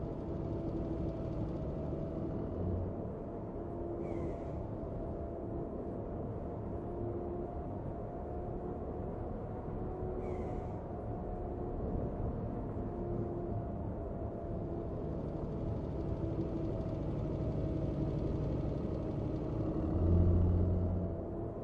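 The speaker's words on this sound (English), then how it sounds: "I've got a hybrid truck. That's what it sounds like." A hybrid truck engine in the video game On The Road drones with a steady, low rumble, holding a deep even hum with slight swells in intensity toward the end.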